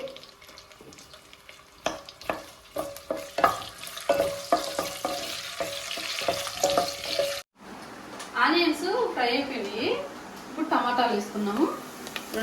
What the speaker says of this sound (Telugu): ఆనియన్స్ కట్ చేసి పెట్టిన ఆనియన్స్ కొంచెం ఫ్రై అవ్వాలి